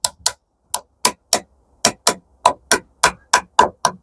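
Small rebates for window hinges are chiselled out with a mallet, a series of about fourteen crisp, close wooden taps coming in irregular pairs and singles with short pauses between.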